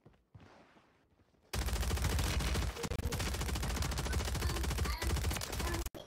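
Sustained automatic gunfire in Call of Duty Warzone, a dense, loud rapid burst of shots that runs continuously for several seconds after a quiet start, with brief gaps near the end.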